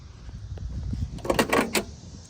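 A 1970 Chevrolet El Camino door unlatches and swings open with a few mechanical clicks and a brief thud, close by over a low idling engine rumble.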